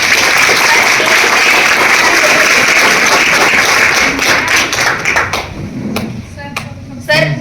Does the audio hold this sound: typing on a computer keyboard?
no